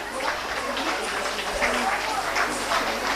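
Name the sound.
parents applauding at school annual function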